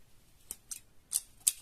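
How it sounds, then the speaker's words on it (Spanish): An automatic wire stripper bites into a cable's insulation, giving four short, crisp snips and clicks spaced about a third of a second apart. The clicks are close and clear over near silence. "supongamos que queremos pelar desde acá"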